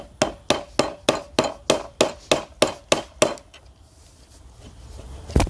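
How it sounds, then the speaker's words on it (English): A mortising chisel is struck repeatedly into wood while making a medieval mallet, giving about ten sharp, evenly spaced thwacks close up. Then comes a pause with soft rustling, and one final knock. "I'm taking my mortising chisel and I'm just paring straight down the sides to clear out that gap in between the 2 pieces"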